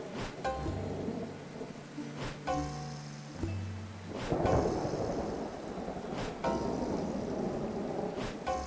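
A thunderstorm in the video game Dead In Vinland pours steady rain while rumbles of thunder roll and crack through it, the rain hissing throughout and a louder burst of thunder arriving midway, with no voices.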